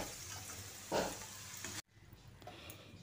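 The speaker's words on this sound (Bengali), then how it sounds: "নাড়াচাড়া করে খুব ভালো করে ভেজে নিতে হবে" Potatoes frying in oil and being stirred, a soft sizzle with one louder scrape near the middle before the sound drops away sharply, then a quieter sizzle continues.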